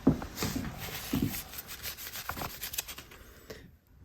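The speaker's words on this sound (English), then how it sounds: "the final thing is running the edge through the end grain like that" A spokeshave's blade edge is drawn through wooden end grain, giving close scraping rubs in a loose rhythm that die away into near silence at the end.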